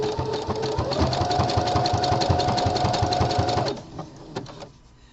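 A home sewing machine stitches the gusset seam on a pair of boxer briefs, whirring steadily and rapidly for about four seconds before stopping, with a few quiet clicks afterward.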